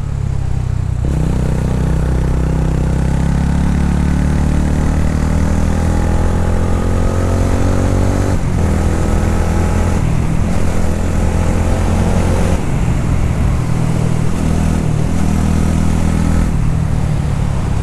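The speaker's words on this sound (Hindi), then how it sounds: "एग्जॉस्ट नोट बहुत ही बेसी है" TVS Ronin 225 motorcycle engine and exhaust while riding on mountain roads: a loud, steady, bassy drone that climbs in pitch under acceleration, with a couple of brief dips where gears shift.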